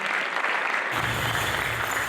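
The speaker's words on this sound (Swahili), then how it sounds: "wasanii tupigie industry players makofi" Applause at a music manual launch and artists forum, honoring industry players: a continuous crowd of clapping hands, steady and fairly close, swelling slightly partway through.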